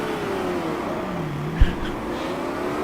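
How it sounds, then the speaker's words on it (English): A Ford Mustang race car engine drones and revs steadily in the GT Legends sim racing game, a sustained loud motor tone with shifting pitch and a short thump partway through. "Roaring Mustang in my ears."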